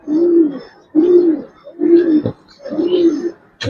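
Giribaz pigeons coo in four low, rounded calls with short gaps between them, heard close up. A brief click or tap cuts in near the end.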